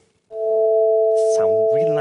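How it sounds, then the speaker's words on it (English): Two steady pure tones sounding together a perfect fifth apart, held loud and close, while a voice starts talking over them partway through. "This is called what we call a perfect fifth."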